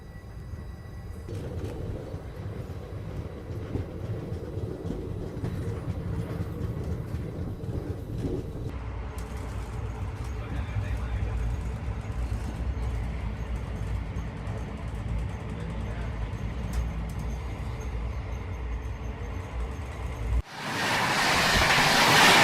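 Pawan Express passenger train rolls past on the railway, a long steady rumble of wheels and cars with faint clatter, continuing for many seconds before giving way abruptly to louder broadband noise at the end.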